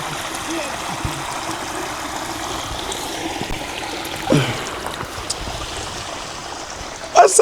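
Stream water flowing steadily through Mukuvisi Woodlands near Harare, a continuous trickling wash with a brief splash midway and another near the end.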